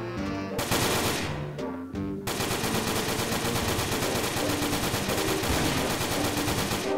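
Dense, rapid automatic gunfire from a Roblox video game rattles almost continuously and loudly, with a brief break early on before the shooting resumes.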